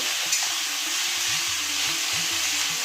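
Vegetarian taro leaves fry in a pan, a steady bright sizzle with repeated scraping strokes of stirring at an even rhythm, close up and with no talk.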